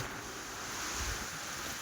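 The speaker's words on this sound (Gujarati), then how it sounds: "અહીંયા કેટલો પવન ફૂંકે છે અને કેટલો વરસાદ પણ પડી રહ્યો છે" Strong wind and heavy rain during floods at Suigam in Banaskantha, heard as a steady, loud broadband roar of gusting wind and downpour with no break and no voices.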